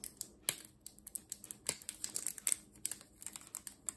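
A plastic foil wrapper is handled up close, giving irregular sharp crinkles and clicky rustles in quick, uneven bursts throughout, with no voice.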